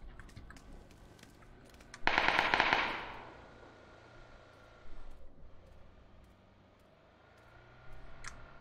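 A rapid burst of gunfire in PlayerUnknown's Battlegrounds crackles for about a second, followed by scattered single shots and keyboard clicks in a quiet background.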